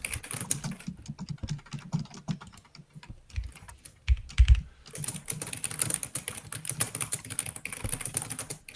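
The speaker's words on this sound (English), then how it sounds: "It's Sci-Phase, typing his little Sci-Phase heart out." Fast, busy typing on a computer keyboard during a live coding session for an Advent of Code puzzle, with dense clattering keystrokes that run throughout, briefly thin out, then resume at a rapid pace, with no voices.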